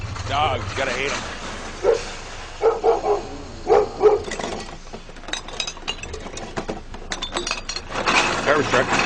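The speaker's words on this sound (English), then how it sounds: "Dogs, gotta hate them." Dogs barking in short bursts from mid-distance, mixed with a few clinking, glassy taps and someone talking intermittently over a busy outdoor background.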